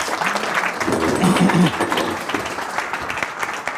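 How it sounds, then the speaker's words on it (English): An audience applauds the first volunteers called up at a group hypnosis demonstration, a short burst of clapping with voices mixed in over it. "we may as well give them a round of applause as they're our first"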